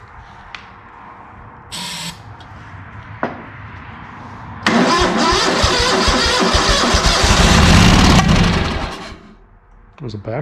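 A ZT200 engine cranks in a few short bursts, then catches and roars loudly for several seconds before cutting out, with a sharp backfire pop near the end.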